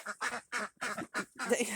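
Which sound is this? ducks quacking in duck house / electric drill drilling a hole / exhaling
ducks quacking in duck house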